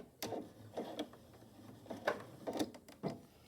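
Home sewing machine stitching quilt binding with short bursts of mechanical whirring and clicking, several separate runs with pauses between, close by and fairly quiet.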